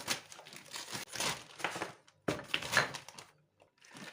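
A plastic zip-lock freezer bag crinkles and rustles up close in several bursts as frozen dumplings are packed, with a short pause in the middle and quiet gaps between handlings.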